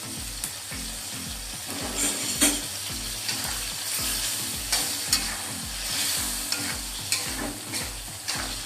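Spicy peanuts and anchovies being stir-cooked in a pan with a little water, a steady sizzle under a low rhythmic pulsing hum, plus occasional spatula scrapes, close and continuous.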